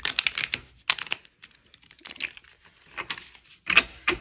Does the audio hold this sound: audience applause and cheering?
no